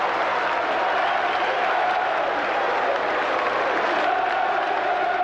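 Football crowd at a Millwall match applauding a goalkeeper's penalty save, with a continuous wash of clapping and cheering at even loudness throughout, heard from within the stands.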